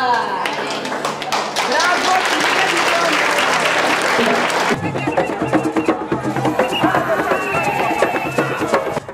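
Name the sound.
applause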